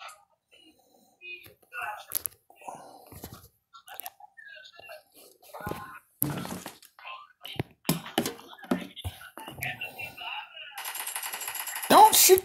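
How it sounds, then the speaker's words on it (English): Automatic gunfire from a battle royale video game, sounding as sharp bursts scattered through the clip and a dense rapid burst near the end, with quiet whispered talk and faint clicks in between. "Why is it automatically shooting like that?"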